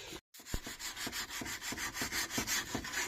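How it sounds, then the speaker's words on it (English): A suitcase-style case is sanded down by hand, with close, steady back-and-forth rasping strokes in an even rhythm, about three per second, and no voices. "am sanding down the case"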